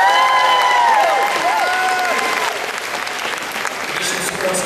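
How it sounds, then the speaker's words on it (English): An audience at a high school spring concert applauds and cheers for a staff member, a loud, dense burst of clapping with whoops and shouts that stays strong throughout. "Let's give Mr. Miller a big round of applause."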